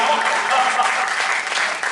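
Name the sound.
audience applause at a poetry gathering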